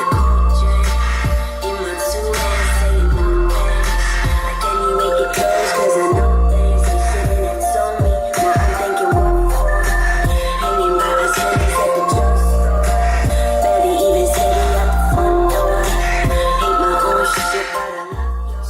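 Heavy, booming bass from a car subwoofer pulses loudly under music, with deep low notes thumping in a steady rhythm and some crackling on top.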